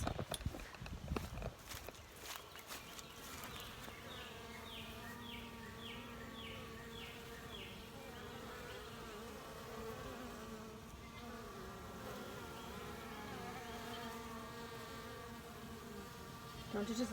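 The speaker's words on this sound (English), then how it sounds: "This is so cool. I love bees." Dense, steady buzzing of many honey bees at their hive close by, a continuous droning hum that holds throughout.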